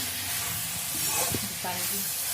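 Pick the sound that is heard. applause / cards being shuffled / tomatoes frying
tomatoes frying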